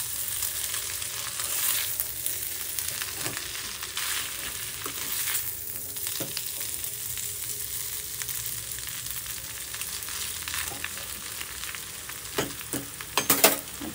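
Maggi noodles being stir-fried in a pan for chowmein, a steady moderate sizzle with intermittent scraping stir strokes and a few sharper clinks near the end, no talking.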